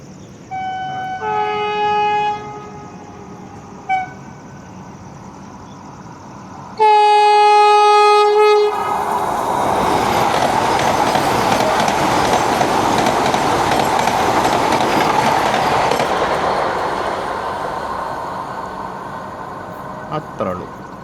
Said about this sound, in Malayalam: നമ്മളെ കാത്തു നിർത്തിയ വന്ദേ ഭാരത് എക്സ്പ്രസ് കയറി വരുന്നു.